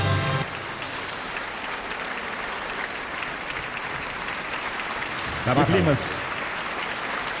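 Audience applause for a young theatre director, steady dense clapping from a crowd throughout, with a host's voice briefly heard over it.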